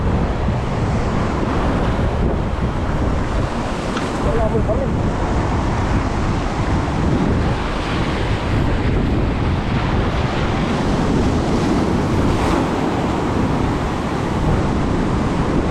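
Ocean surf rolls and crashes continuously amid gusty wind buffeting the microphone, while people aboard a fishing boat talk briefly over the roar.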